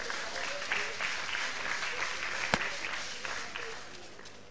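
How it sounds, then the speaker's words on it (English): Audience applause at an arts and book festival, a continuous wash of clapping across the hall, moderately loud and steady, with one sharp knock partway through. "Can we give a round of applause to Okanu Ibane,"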